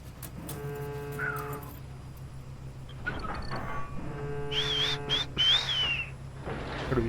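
Whistling in the video game Call of Duty: Ghosts, a wavering high whistle that rises and falls in a few short phrases over steady game background noise and music, without talk.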